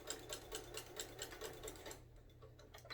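A sewing machine back stitches through a rag quilt, its rapid rhythmic ticking needle strokes close and clear, slowing briefly near the end before resuming.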